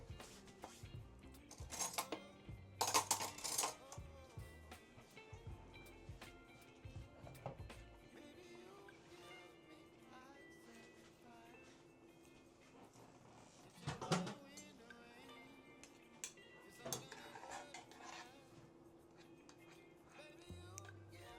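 A metal spoon clinks and scrapes against dishes while chocolate is spread over no-bake frozen caramel hot cocoa bars, scattered close taps and knocks with quieter stretches between.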